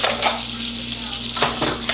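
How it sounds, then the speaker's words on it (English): Garlic butter sizzles in a hot pan while buttered steak is cooked, a steady close frying hiss with brief brighter crackles and a faint clink of cookware. "And then you can put some of your garlic butter in"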